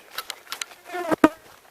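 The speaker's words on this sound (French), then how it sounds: "la mouche est d'accord avec moi, bien entendu" A housefly buzzes close by in short bursts, its whine rising and fading several times before two louder passes near the end.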